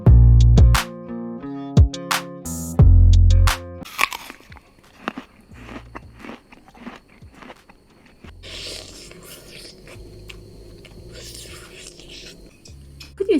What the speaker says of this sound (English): You want me to stop chomping on the apple?